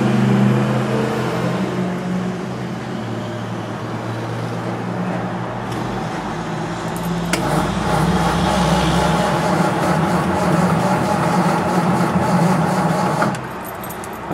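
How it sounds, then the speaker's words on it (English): A steady electric fuel pump hum on a Ford Thunderbird with the ignition key switched on, a continuous drone at close range with a brief louder surge partway through, no talking over it. "And turn that fuel pump on for a second."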